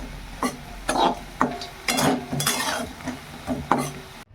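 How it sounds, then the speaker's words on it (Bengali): Gram-flour fritters with chopped onion, chilli and coriander frying in a pan, with a soft sizzle under repeated scraping and clinking of a metal spatula against the pan in uneven strokes. "এখানে বড়া ভেজে নিচ্ছি এটা হচ্ছে বেসনের বড়া পেঁয়াজ কুচি লঙ্কা কুচি আর ধনে পাতা কুচিয়ে"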